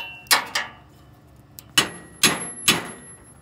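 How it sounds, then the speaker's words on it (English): Hammer blows on a dented metal trailer part during mounting work, five sharp metallic clangs spaced irregularly, close and loud against a quiet background. "I think I have to get the hammer straightened up. It's got a ding in it up here."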